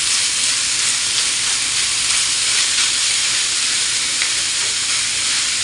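Sliced bacon frying in a pan gives a loud, steady, dense sizzle with a constant crackling hiss throughout and no voices.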